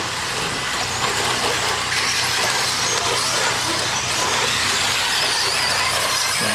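RC trucks racing down a straightaway make a dense, loud, continuous high-pitched whine of small motors, steady throughout with no pauses.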